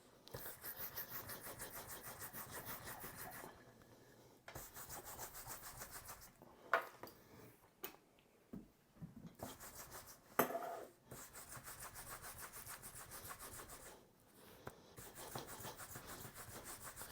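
A standard horsehair brush buffs a leather belt in long, steady rubbing strokes, close and fairly soft, with brief pauses between passes.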